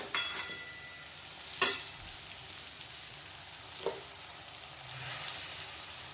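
Poha (flattened rice) stirred and frying in a pan over a low flame, a steady soft sizzle with occasional spoon scrapes and clinks on the metal.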